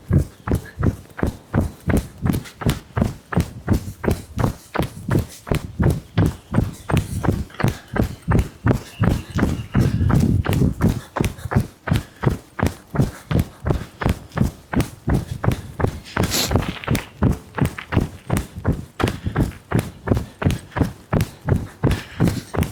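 Running shoes strike pavement in a steady, even rhythm during a warm-up jog, each footfall close and distinct, continuing evenly for over twenty seconds with faint breathing and no talk.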